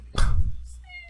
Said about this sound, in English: Wouldn't be a video without a cat appearance now, would it?